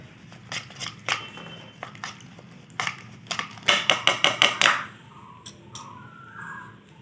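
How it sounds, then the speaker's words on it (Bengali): Egg mixture with turmeric, chili, cumin and garam masala powders is beaten in a bowl: scattered sharp clicks, then a quick run of rapid tapping strokes, close up with no talking. "এবার এটাকে ভালো করে ফেটে নেব।"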